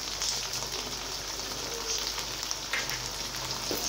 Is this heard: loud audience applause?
no